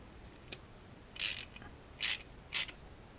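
A flanged nut being tightened onto a rebuilt starter motor from a Honda CB350 motorcycle, giving a few short, close ratcheting clicks in separate bursts with quiet gaps between them.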